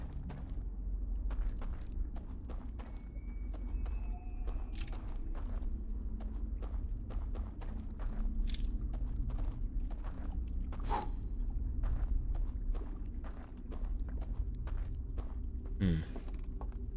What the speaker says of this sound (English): I think there's someone walking around upstairs